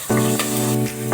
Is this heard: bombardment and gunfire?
no